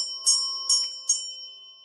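Three clear bell strikes ring during a meditation reading, evenly spaced and bright over a sustained shimmering tone, alone with no talk.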